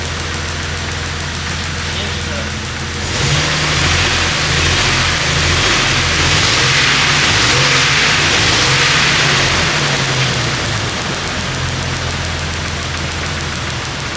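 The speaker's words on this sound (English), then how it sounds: "So it's running rough because I've got two cylinders disconnected here." A Jeep Wrangler 4.0L engine runs rough with two cylinders disconnected, a low uneven idle that rises with a lumpy, pulsing note partway through, steady and close.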